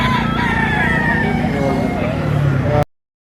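A rooster crows at a busy chicken market in Lipa, Batangas, loud and close, with other fowl clucking and crowing around it and voices talking in the background before an abrupt cut.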